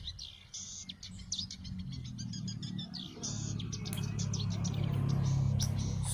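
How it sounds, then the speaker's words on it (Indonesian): Songbirds chirp and trill in quick repeated bursts over a soft background hum that grows slightly louder toward the end. "mengambil beberapa suara kicauan burung tertentu"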